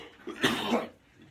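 A single short cough from a podcast host on cold medicine, close to the microphone and over in under a second.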